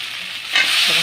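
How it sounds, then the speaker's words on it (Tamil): Tomato and onion sautéing in a pan for an eggplant and bottle gourd kootu curry, a short close burst of sizzling that swells midway as the pan is stirred. "நல்லா தக்காளி வெங்காயம் நல்லா வதங்கியிருக்கும்"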